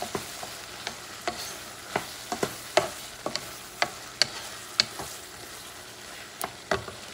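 A spoon stirs mushrooms in a frying pan of goulash, its repeated scrapes and taps landing irregularly over a soft, constant sizzle close by.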